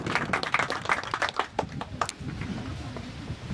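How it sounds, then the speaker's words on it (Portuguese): A brief round of applause for Francisco at the inauguration of a health post on Ilha da Cana Brava, with scattered claps that start fairly strong and then taper off quickly. "Eu faço uma salva de palmas para o Francisco."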